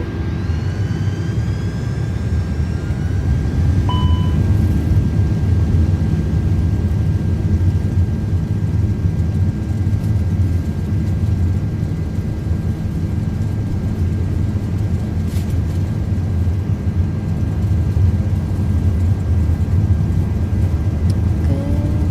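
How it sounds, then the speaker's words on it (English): Airbus A330-300 engines at takeoff thrust in a flight simulator hold a loud, steady low roar for the whole stretch, with a few faint tonal beeps and chimes over it. "Takeoff thrust set. Here we go."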